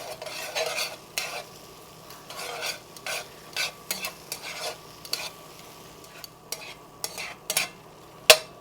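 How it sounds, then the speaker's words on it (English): Sauce being stirred in a pan, with a rhythmic series of scraping spoon strokes over a low simmer, close and clear with no talking. "Get that stirred up in there."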